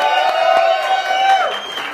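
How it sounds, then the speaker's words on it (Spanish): Crowd at a Mexican freestyle rap battle cheering and whooping loudly, a dense continuous roar with shouts rising above it, while a voice carries on over the noise. "Un aplauso para Tecne."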